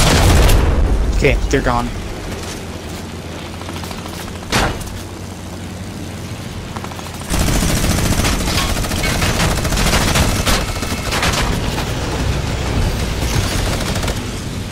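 Bursts of rapid gunfire from a Fortnite match crackle loud and close in the first seconds, with a single later shot, then dense game action noise; a player talks over it.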